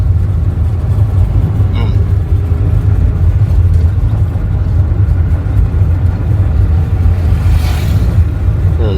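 A car engine drones steadily from inside the vehicle during a driving lesson, a loud low rumble throughout with faint road noise, while someone speaks quietly under it.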